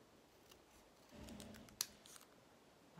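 Scissors snip through material for an 'All and Create' craft project, with a short, quiet cutting sound and one crisp sharp click, close by in a hushed room.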